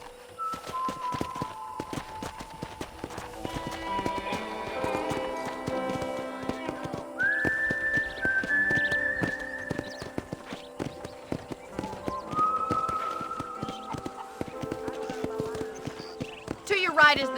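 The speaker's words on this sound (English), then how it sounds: "let's see if you can still ride a horse." Steady horse hoofbeats clip-clop at a walking pace in Red Dead Redemption on PC, under continuous talking, with music and game sound effects layered throughout.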